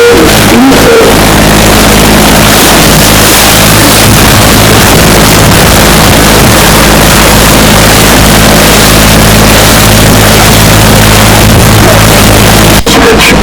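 A loud, constant low engine drone runs throughout as a boat cruises through a canal in Holland, with steady rumble and wash and no talking.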